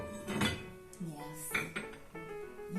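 Portuguese ceramic porcelain plates handled and set down, giving several bright clinks and ringing chinks at irregular intervals, close and moderately loud, with a voice speaking briefly in between.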